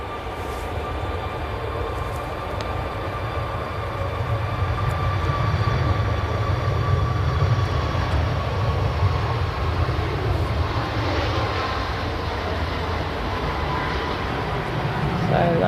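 The jet engines of a Boeing 737 MAX at Manchester Airport spool up and give a broad, steady roar that swells slightly in the middle and then holds. A thin whine sits on top, and the source is some distance away.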